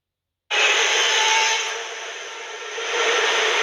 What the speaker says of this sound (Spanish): Ahora vamos a ver el ruido que hace este motor.